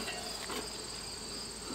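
Honeybees buzz inside an open hive, a steady, dense, close drone with no pauses.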